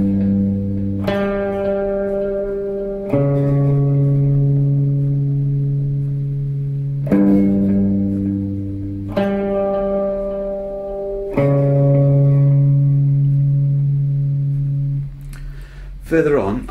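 A heavy, distorted guitar riff of slow, unresolved tritones rings out, sustained notes repeating in a brooding cycle with some echo, loud and alone.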